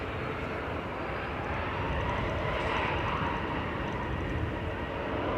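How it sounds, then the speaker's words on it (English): A KLM airliner at Manchester Airport heading out to Amsterdam, its jet engines a steady, loud, broad roar that holds for the whole stretch without talk. "KLM heading back to Amsterdam now."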